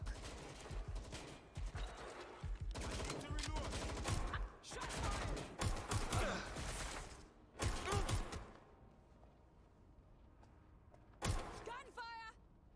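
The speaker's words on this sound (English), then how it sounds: "Gunfire!" Heavy bursts of rapid gunfire in Watch Dogs: Legion with explosions and chaotic combat noise, fading to quieter stretches broken by a few more shots and mechanical sounds.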